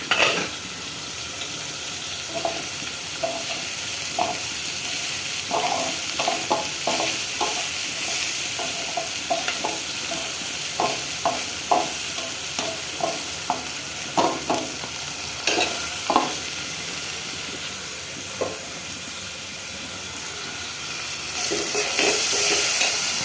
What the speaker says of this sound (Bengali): আর আমার করলা ভাজি।